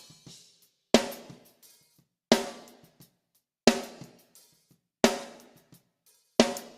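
A snare drum run through a gate/expander channel strikes five loud, evenly spaced hits, each with a sharp crack and a short, smoothly closing tail that falls to near silence between hits.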